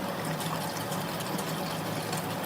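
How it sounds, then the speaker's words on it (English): Warm water runs steadily from a tap for washing the face, a continuous close hiss with no breaks. "We're going to start with getting some warm water."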